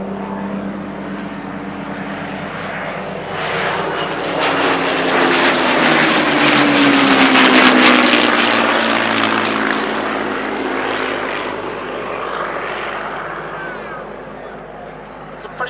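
A Corsair propeller fighter in Honduran Air Force colours flies past at an air display, its piston engine swelling to a loud drone and fading away over about fifteen seconds.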